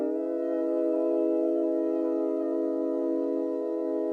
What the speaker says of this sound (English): it's this voice pad just to add some more like high end to the vocals